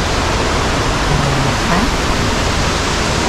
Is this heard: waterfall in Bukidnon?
yes